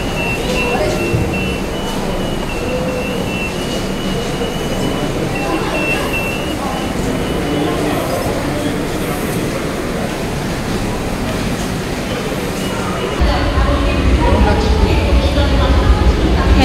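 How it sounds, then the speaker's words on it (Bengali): A metro train arrives at a station with a loud, continuous rumbling roar that swells near the end, with voices talking over the noise. "মেট্রো এসে গেছে।"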